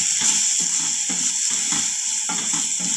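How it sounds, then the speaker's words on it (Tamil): Ginger garlic paste sizzles hard while being sautéed in a pan, a loud bright hiss cut by rhythmic scraping strokes of a spatula roughly every half second, close up and with no voices. "இப்போ இஞ்சி பூண்டு விழுது பச்சை வாசனை போகிற வரைக்கும் நம்ம நல்லா வதக்கி விட்டுக்கலாம்."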